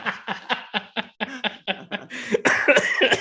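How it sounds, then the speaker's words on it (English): A rapid series of harsh coughs, close and loud, about a dozen bursts growing denser and more strained toward the end. "I'm keeping these coughs in here, by the way."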